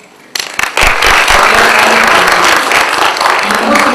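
Audience applause fills a lecture hall, starting abruptly after a quiet moment and then holding as dense, steady clapping from many hands at a loud, even level.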